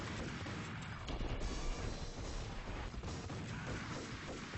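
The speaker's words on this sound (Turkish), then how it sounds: "Bu silah iyiymiş ya la. Pompalının hızlı atanı." Rapid pump-action shotgun fire in the Max Payne video game, heard as a dense, loud, continuous barrage of booming blasts and crashes with no clear gaps.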